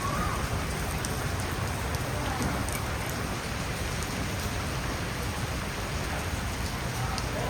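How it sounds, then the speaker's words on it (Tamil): Steady, dense rain falls outdoors at the Chinese Muslim mosque Masjid Jamik Cina Muslim in Malaysia. It makes an even, continuous hiss of drops on surfaces, with no gaps and no voices. "கொஞ்சம் நேரத்தில் மழை பெஞ்சு தண்ணி வந்துருச்சு பார்த்தீங்களா"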